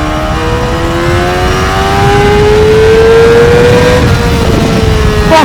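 A Honda CBR600RR sport motorcycle revs hard on a night ride, its engine note climbing steadily through the gears with a loud, continuous high-pitched whine and rising harmonics, alone with no talk.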